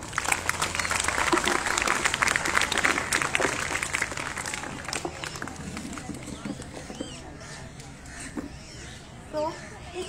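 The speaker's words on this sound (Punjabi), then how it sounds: "ਉਹਦੇ ਲਈ ਜ਼ੋਰਦਾਰ ਤਾੜੀਆਂ ਹੋ ਜਾਣ" An audience claps at a gathering celebrating women, a dense burst of applause that fades over several seconds while voices and children's chatter carry on underneath.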